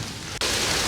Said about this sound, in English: It's currently hailing like crazy.